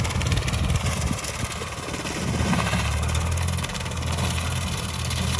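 Swaraj 744 tractor engine drives a banana cutting machine, a steady, loud, low mechanical drone with a continuous rumble and whirr throughout, no pauses.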